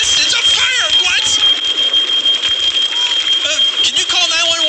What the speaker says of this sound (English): Oh, a fire alarm? Yes, it's a fire!